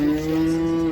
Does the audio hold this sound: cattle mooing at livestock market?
yes